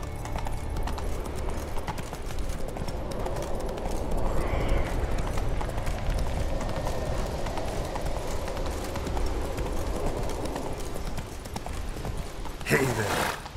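Hooves of the horse Roach clip-clop at a steady gallop in The Witcher 3, a continuous rhythmic pounding over ambient game noise, with a brief whoosh near the end.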